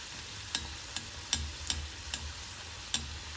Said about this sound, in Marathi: तेल सोडायचं आहे वर की ते छान तळले जातील